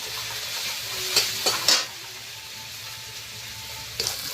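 Ginger garlic paste hits hot oil in a pan while cooking a river-fish curry, giving a few short bursts of sizzling and stirring followed by a quieter steady fry.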